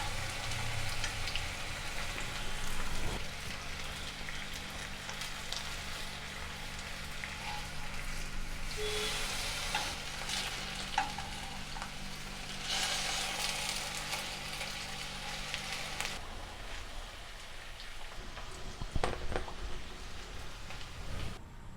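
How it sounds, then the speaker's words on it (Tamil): Pineapple pieces and sugar sauté in a pan for pineapple kesari, giving a steady soft sizzle and crackle that runs throughout, with faint stirring and no talking. "இந்த சர்க்கரை போட்டு இந்த மாதிரி போட்டு வதக்கணும்னா இந்த சர்க்கரை ஜூஸ் எல்லாம் அதில் ஏறிடும்"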